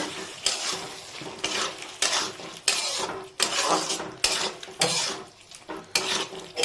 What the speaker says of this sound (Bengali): দিয়ে এবার এটাকে একবার মিক্স করে নেব।